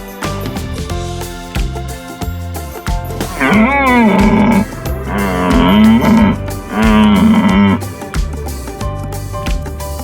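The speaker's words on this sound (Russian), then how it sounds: "Как говорит олень?" A deer call from a set of wild forest animal sounds: three drawn-out, moaning bellows, each about a second long, rise clearly over steady background music.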